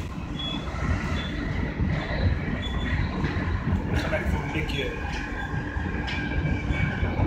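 Interior of a moving train travelling to Utrecht: a steady loud rumble of wheels and carriage noise with faint rail squeals, under a voice speaking Dutch.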